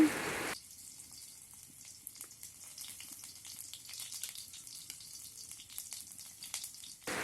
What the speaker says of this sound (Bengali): আমি যে কড়াইয়ে তেল দিয়ে দিলাম মাছ জাল দেওয়ার জন্য পেঁয়াজ দিয়ে দিলাম